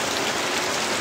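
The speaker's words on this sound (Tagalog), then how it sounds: "malakas ang ulan" Heavy rain pours steadily, a dense, loud, even hiss of drops on surfaces heard up close, with no voices.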